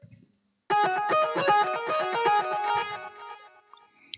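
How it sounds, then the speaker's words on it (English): An electric guitar line from a song, with a little reverb and delay, plays a quick run of distorted notes for about three seconds before it trails off. "Basically, I've taken a electric guitar"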